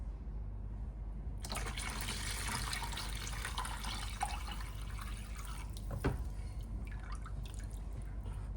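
Water is poured into a mixture for kutsinta, a steamed rice cake, starting after a moment of near quiet and then running as a steady close splashing flow with a few brief drips.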